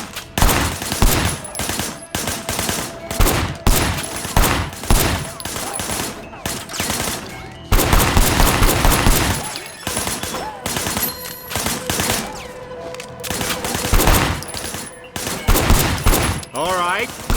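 Gunfire in the video game Sleeping Dogs comes as loud, sustained fusillades of rapid automatic shots, broken by short gaps, with bursts layered over one another and voices partly under the shooting.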